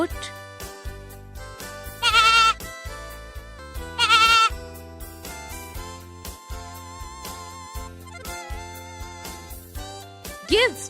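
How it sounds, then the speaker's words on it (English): A goat bleats twice in short, wavering cries about two seconds apart. Both are close and loud over a continuous background music track with a steady rhythmic beat. "Goat,"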